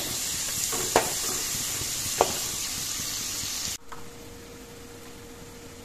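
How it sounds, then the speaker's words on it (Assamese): Onions frying in a pan for a chicken and bottle gourd curry, a steady close sizzle with two sharp stirring clinks, then the hiss drops abruptly to a quieter, thinner fry. "পিঁয়াজখিনি দি দিলোঁ পিঁয়াজখিনি অলপ ৰংচুমুৱা হ'বলৈ দিম"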